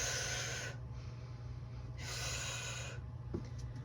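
Forceful breaths pushed out during a standing resistance-band Pallof press and march, two long airy exhales near the mic with a brief one at the end, over a steady low hum.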